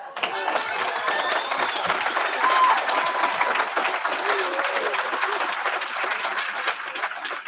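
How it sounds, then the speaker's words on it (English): Dense, sustained applause from a large audience at a prisoner-reentry program graduation ceremony, steady clapping filling the room throughout with scattered cheers mixed in. "Can we give Graham Miller another big, gigantic round of applause?"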